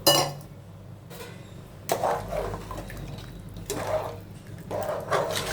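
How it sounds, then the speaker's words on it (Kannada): Glasses of water are tipped one after another onto rice in a cooking pot for hotel-style vegetable bath, giving several separate close splashing pours with quiet pauses and a light clink between them. "ಅದಕ್ಕೆ 3 ಲೋಟ ನೀರು ಹಾಕ್ತಾಯಿದ್ದೀನಿ."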